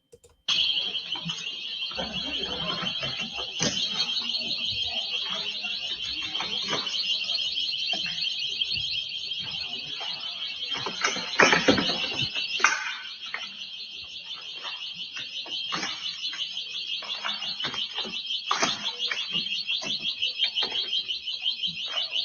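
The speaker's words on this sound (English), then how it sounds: "That's the store's security alarm ringing" A store security alarm rings continuously, a loud piercing electronic tone with rapid pulsing, recorded on a cell phone, accompanied by scattered bangs, clatter and background noise throughout.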